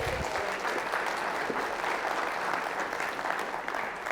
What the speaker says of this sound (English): Bring her up with a round of applause.